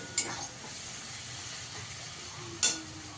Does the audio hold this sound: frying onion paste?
yes